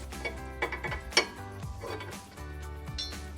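Metal bolt and clip clinking and ratcheting against a bracket as the bolt is run through into the rear lower control arm of a 2005-2014 Ford Mustang, a few sharp close clinks over a steady low hum.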